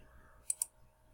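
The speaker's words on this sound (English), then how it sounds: "So I like to right click" A computer mouse right-click: two quick, light clicks in close succession, faint and close against a quiet background.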